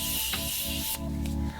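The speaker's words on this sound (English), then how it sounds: "I am going to spray my face one last time." Face setting spray hisses in a steady, close mist that runs almost unbroken for a second or two, with a brief pause and a second short spritz. No one speaks.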